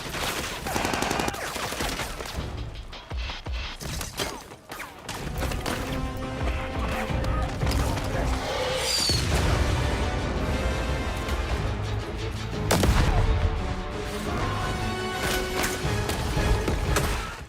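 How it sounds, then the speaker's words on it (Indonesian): Rapid bursts of gunfire and crashing impacts erupt amid music and loud action-movie sound effects in a gunfight from The Grey Man (2022), the shooting coming in repeated volleys. "Di tengah-tengah baku tembak"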